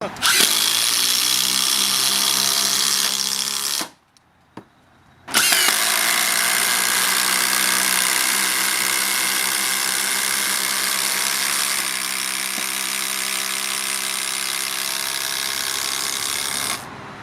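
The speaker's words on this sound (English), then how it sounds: "I'm going to drive 100mm batten screws followed by 200mm batten screws" A cordless Makita impact driver with a 12 amp hour battery drives 100mm batten screws, giving a loud, steady whirring hammer that runs for several seconds, stops briefly, then continues long and close without speech.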